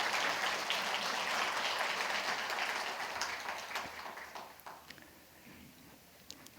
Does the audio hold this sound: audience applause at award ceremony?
yes